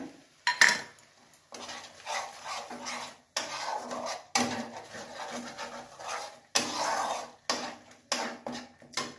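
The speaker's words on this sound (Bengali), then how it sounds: "আমি এবার ওই যে আমন্ড পেস্টটা করে রেখেছিলাম ওইটা দিয়ে দিলাম।" Almond paste goes into a pan of cauliflower korma and is stirred, a spoon scraping and clattering against the pan in repeated close bursts with short pauses.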